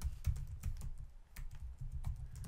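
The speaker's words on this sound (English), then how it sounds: "I'm going to start typing" Typing on a computer keyboard, a close, fairly quiet run of irregular key clicks with soft thumps, and no talking.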